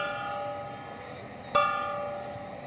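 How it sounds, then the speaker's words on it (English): A single loud gong strike sounds at Dodger Stadium after a home run in a Dodgers versus Brewers game. It rings out over a steady roar of crowd noise, then slowly decays. "The gong has sounded."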